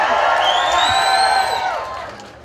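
A crowd at a community gathering with Indonesia's president and first lady cheers and whoops loudly, voices rising in a sustained roar that fades toward the end, with a few claps mixed in.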